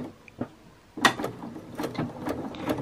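Sewing machine stitching over string on fabric while making rouleau loops and fabric ties, short bursts of mechanical whirring and clicking close up, starting and stopping unevenly.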